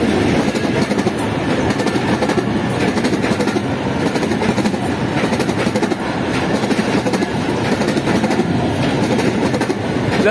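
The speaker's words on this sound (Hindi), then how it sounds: "प्लस कंटेनर ट्रेन भी है।" An express train and a container train run on the rails, giving a loud continuous rumble with rhythmic wheel clatter over the joints. The sound is close and unbroken, with no voices.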